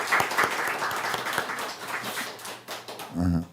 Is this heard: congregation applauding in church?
yes